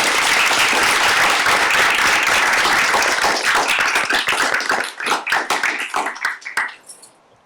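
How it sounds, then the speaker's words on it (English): Loud, dense audience applause fills a mathematics conference lecture hall, then thins into scattered individual claps that fade to near silence. "So let's make a big applause."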